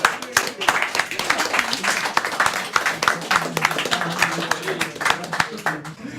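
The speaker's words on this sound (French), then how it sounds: "On peut l'applaudir." A French studio audience at a dad-jokes comedy show claps in a lively burst of applause, sharp individual claps blending into a brisk, uneven patter that lasts several seconds, with voices heard amid it.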